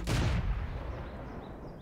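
A World of Tanks tank cannon fires a single loud, booming shot at a Panzer IV, a sharp blast that rolls off into a fading rumble with faint ringing in the tail.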